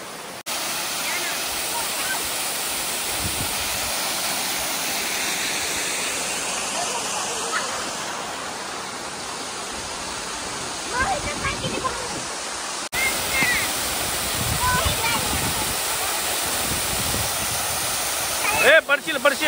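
A waterfall roars with rushing water, loud, steady and close, continuing without a break through the whole stretch, while voices talk faintly beneath it.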